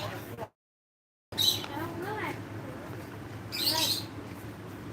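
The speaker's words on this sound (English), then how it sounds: "Oh, I hear the birds." Faint high bird chirps come in two short bursts over quiet outdoor background noise in Saigon, Vietnam, with a brief silent gap early on.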